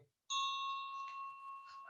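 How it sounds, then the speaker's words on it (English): Warning bells ringing as a theatre sound effect in a stage production of The War of the Worlds, a clear sustained bell-like tone starting after a brief pause and ringing steadily, fairly faint. "The bells you hear are ringing to warn the people to evacuate the city as the Martians approach."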